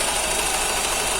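A VW EA111 engine runs with an intermittent misfire, giving a short, steady mechanical hum and hiss at close range with no voices.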